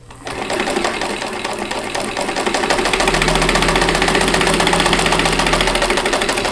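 A home sewing machine stitching quilt blocks with all-purpose thread runs in a steady, fast mechanical chatter, starting after a short pause and continuing loud and close without talk.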